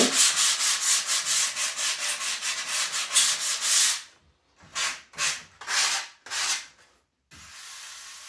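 Sandpaper rubs by hand over a dope-coated wooden model aircraft frame in rapid, rhythmic back-and-forth strokes close by, first continuous, then breaking into four separate short passes after a pause, with no talking.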